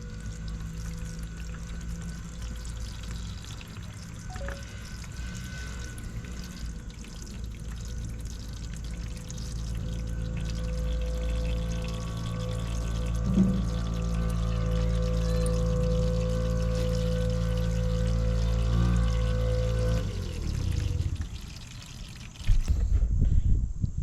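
Water pours and trickles steadily from a 650cc buggy engine for about twenty seconds, then tapers off and stops, followed by a brief clunk.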